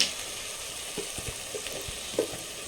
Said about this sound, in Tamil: ஹை ஃப்ளேம் பண்ணிவிட்டு இஞ்சி பூண்டு பேஸ்ட் வந்து கொஞ்சம் நேரம் பச்சை வாசனை போகிற அளவுக்கு வதங்கினா போதுங்க